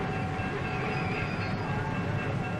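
Passenger train rolling along, a dense steady rumble of wheels and cars with a faint high whine, loud and continuous, no talk.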